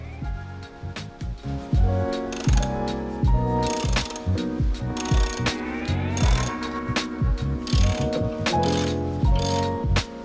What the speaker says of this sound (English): I'm using a 13mm socket on this bolt.